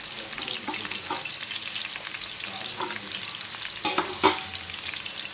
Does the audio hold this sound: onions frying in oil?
yes